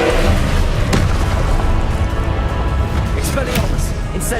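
Repeated Confringo fire spell blasts from Hogwarts Legacy, dull booming bursts landing one after another beneath a steady layer of game noise.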